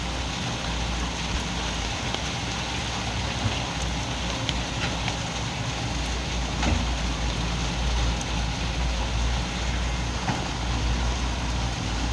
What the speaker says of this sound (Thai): ฝนถล่มฟ้าบันดาล